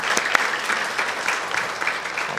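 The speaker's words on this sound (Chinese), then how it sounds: "我们拍手把一切荣耀来归给神。" A church congregation at a Sunday worship service applauds steadily, a dense, even wash of many hands clapping together in a large room, with no one speaking over it.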